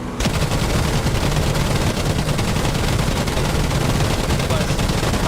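Aircraft cannon fire from a WWII fighter in a DCS World air-combat game against modern helicopters: a dense, continuous rattling barrage with booming low rumble, loud and sustained throughout.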